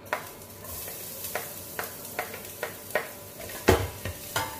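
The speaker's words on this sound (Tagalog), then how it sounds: "ginigisa ko muna ang bawang." Garlic sautéing in hot cooking oil in a casserole pot: a soft steady sizzle under a run of about ten rhythmic stirring scrapes, close and fairly quiet, with no talk.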